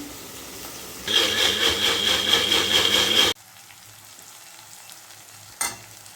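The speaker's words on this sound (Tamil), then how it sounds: "வெங்காயம் தக்காளி நல்லா வதங்கிருச்சு" Onion and tomato sizzle and fry loudly in a hot pan for a couple of seconds, then the sizzle drops away to a quiet background with a brief clatter.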